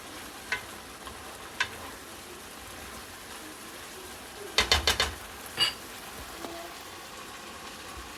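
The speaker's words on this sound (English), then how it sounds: "Just keep stirring it, because if you don't stir it," Citrus taco juice bubbles and sizzles in a pan under steady hiss, while a spoon scrapes and stirs it in a few sharp bursts, one quick cluster near the middle, at moderate volume.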